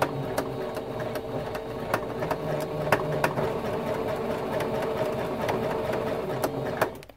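A sewing machine runs steadily, joining T-shirt quilt blocks with a partial seam, a continuous close mechanical whir with faint needle clicks throughout.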